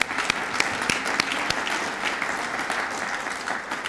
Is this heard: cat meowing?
no